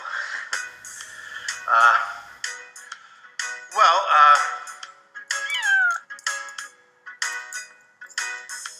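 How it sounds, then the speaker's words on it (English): A cat meows repeatedly, several drawn-out, wavering cries spread across the stretch, interleaved with bursts of other tonal sounds and voices. "Did we get a cat?"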